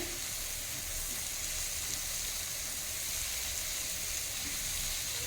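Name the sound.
shrimp with spices frying and stirring in pan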